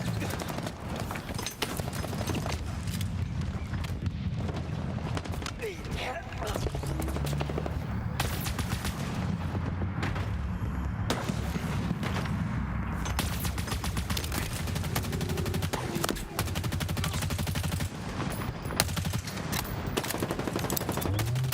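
Weapon gunfire in the Halo video game rattles in steady, dense bursts through the whole stretch, loud and close, with a voice talking underneath at times.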